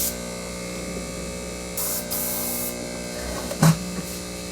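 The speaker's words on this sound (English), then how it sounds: "I've loaded up the airbrush. Just going to hit our little compressor here." An airbrush sprays Tamiya chipping liquid while a small hobby compressor runs, giving a steady close hiss and hum throughout, with a few brief louder bursts of spray.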